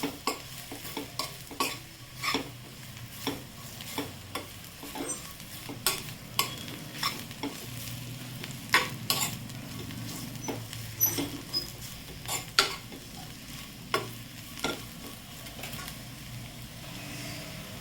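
Bitter gourd sautéing in a pan while being stirred, with repeated scraping and tapping strokes of a spatula over a low, quiet sizzle, close by.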